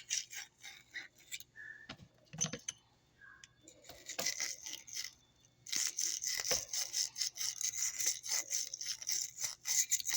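Scrubbing and cleaning an epoxy spray gun used for primers, quiet brushing and scraping strokes with small clicks and squeaks, then a busier stretch of rapid bristle scrubbing up close.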